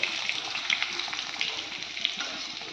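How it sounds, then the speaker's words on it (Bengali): Ginger garlic paste frying in a pan with fried potatoes, giving a continuous bright sizzle with small crackling pops close up. "আদা রসুন বাটাটা দিয়ে দেবো ভেতরে, একটু ভেজে নিই।"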